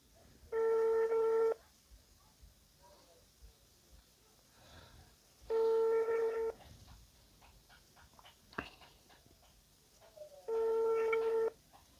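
An outgoing telephone call rings unanswered: three steady ringback tones of about one second each repeat at roughly five-second intervals over a faint, hissy line.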